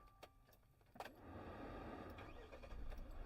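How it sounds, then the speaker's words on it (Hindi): A Mahindra Scorpio SUV engine cranks over and catches after a few clicks and a key jingle, then settles into a steady idle that rises slightly, heard close up. "भाई अब मैं आपको इसको स्टार्ट करके बताता हूँ"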